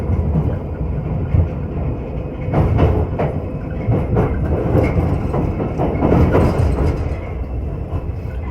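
Piccadilly line engineering train rolling into a westbound Underground platform during works, with a low steady rumble and a run of rhythmic wheel clatter over rail joints, heard close and continuous throughout.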